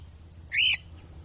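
A lost cockatiel gives a single short, loud, rising squawk-like call close by, standing out against quiet background noise.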